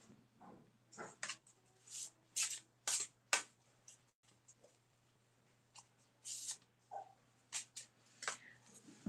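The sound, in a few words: tarot cards being shuffled and drawn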